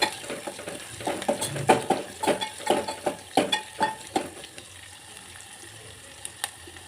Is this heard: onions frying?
yes